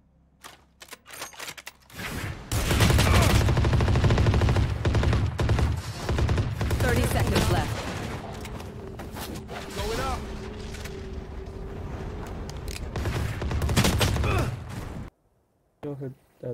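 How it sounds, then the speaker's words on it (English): Rapid gunfire in a Valorant match, with dense bursts and sustained automatic fire running for over ten seconds, loud and close, then a sudden stop, with voices talking over parts of it. "Shots over here for sure"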